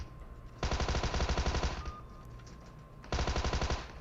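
Rapid gunfire from a DBS shotgun in a mobile battle-royale game rattles in two dense bursts, a longer one followed by a pause and then a shorter one, loud and close with no talk.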